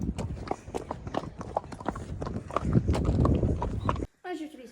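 Pony hooves clip-clop on hard ground in a stable yard during morning feeding and turnout, a busy run of overlapping steps with noise underneath, cutting off abruptly near the end.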